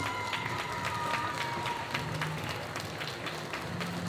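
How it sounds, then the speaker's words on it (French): An audience at a cosplay contest and jury presentation keeps up continuous, fairly distant applause and crowd noise, a dense clatter of clapping that runs steadily throughout. "Et les applaudissements?"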